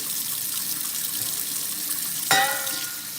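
A kitchen tap runs cold water for cooling boiled chickpea pasta, a steady close hiss that surges into a louder splash near the end as the flow hits the sink.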